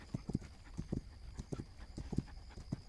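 Horse hooves clip-clopping in the video game This Land Is My Land, a steady four-beat gait repeating in clear, close groups of thuds over a quiet background.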